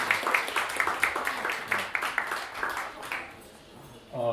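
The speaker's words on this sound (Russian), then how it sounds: "Ваши аплодисменты." An audience claps at a jazz and harp concert anniversary, a dense patter of many hands that fades out before a voice starts speaking at the end.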